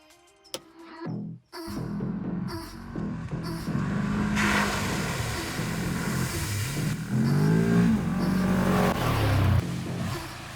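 A Segway Villain 4x4 side-by-side buggy starts off and drives off-road on dry ground, its engine revving and rising in pitch through repeated accelerations, close and loud with rattling and crunching underneath.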